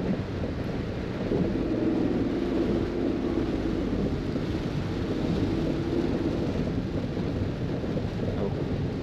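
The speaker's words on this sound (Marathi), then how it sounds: "इथे पाऊस पण भरपूर लागतोय" Heavy rain drums steadily on a moving car on a wet monsoon road drive between Khurdhunda and Sangameshwar Dhamani. A dense, even wash of noise with low road rumble continues throughout with no talking.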